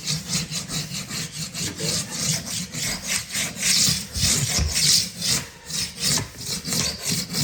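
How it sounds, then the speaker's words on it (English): A handheld floor scraper shaves small bumps off a floor during floor prep for a tile install. It makes a steady, rhythmic rasping back and forth, loud and close, with no talk. "Any little bump or anything, this thing will just take, slice it right off."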